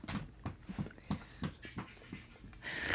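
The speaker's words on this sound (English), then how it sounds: "Look at this big old dog." A big dog pants in a steady run of short, rhythmic breaths, close and fairly loud, with a brighter noise swelling near the end.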